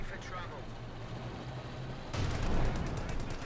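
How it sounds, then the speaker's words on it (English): Back-and-forth gunfire in the Company of Heroes 2 strategy game, Wehrmacht against British forces, rattling along steadily and swelling louder partway through, mixed with distant battle noise and a voice talking over it. "Bit of back and forth shooting there."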